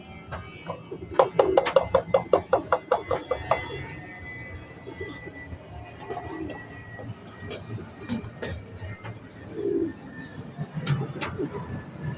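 Racing pigeons arriving at a loft after a 7:00am release in Sariaya, giving a run of rhythmic close cooing, then softer scattered coos and flutters over low background noise, with someone talking at times.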